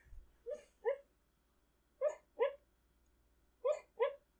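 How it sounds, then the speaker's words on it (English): A sleeping dog whimpers while dreaming, giving three pairs of short, high-pitched yips and whines spaced about a second and a half apart, close and clear over a faint steady hum. "My dog is whimpering."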